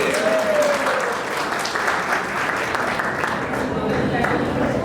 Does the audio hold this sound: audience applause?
yes